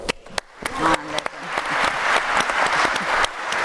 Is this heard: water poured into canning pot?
no